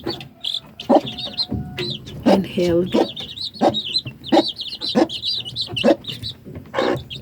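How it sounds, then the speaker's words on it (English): Free-range kienyeji hens and chicks about two weeks old cluck and cheep in a kitchen garden, close and steady in short repeated bursts, with a voice speaking briefly among them. "This is pure kienyeji chicken or free range chicken, and the chicks are barely 2 weeks old"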